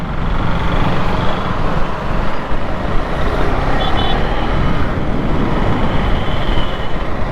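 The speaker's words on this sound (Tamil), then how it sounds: "டிராஃபிக் வேறு பயங்கரமாக." Dense road traffic rumbles continuously and loudly, with cars, trucks and buses blending into a steady roadside roar and no single vehicle standing out.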